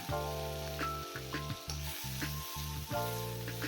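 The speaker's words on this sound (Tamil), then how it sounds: "இது எல்லாம் கொஞ்சம் லைட்டாக ஃப்ரை ஆன அப்புறம்" Red chilli, split green chillies and curry leaves fry in hot oil, giving a soft, steady sizzle and crackle that stays fairly quiet under a sustained tonal background.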